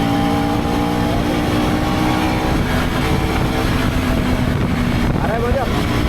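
A KTM motorcycle cruises above 100 km/h on a straight road in Ekole Valley near Lonavala, its engine a steady, loud drone mixed with heavy wind rush the whole way through.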